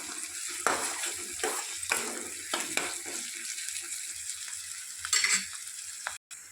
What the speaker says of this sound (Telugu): అల్లం వేసుకొని మరొకసారి కలుపుకుందాం.